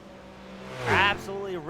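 A GT1 race car's engine revs sharply during a pit stop at Sebring in a sports car racing series, one loud rising and falling burst over steady engine drone, with a commentator's voice running underneath.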